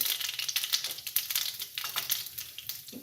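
Mustard seeds and ajwain hit hot oil already holding bloomed cumin for a Maharashtrian boiled-potato bhaji, setting off rapid, close crackling and spitting that pops continuously.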